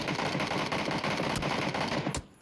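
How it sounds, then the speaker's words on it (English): Rapid automatic gunfire in a competitive PUBG esports match rattles in one continuous, dense burst of shots for about two seconds, then cuts off abruptly into quiet. "Team Gates, though, taking shots at these FlyQuest members"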